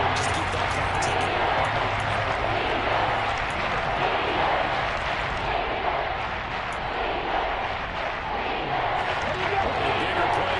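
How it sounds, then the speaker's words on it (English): Stadium crowd noise in an American football video game, a loud sustained roar building before a big third down, with a commentator talking over it. "The crowd getting into it as we come up on a big 3rd down."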